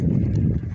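A ridden horse walks in Port Townsend in the evening, its hooves clopping on the ground in a quick, muffled rhythm, close by, with low rumbling underneath and no voices.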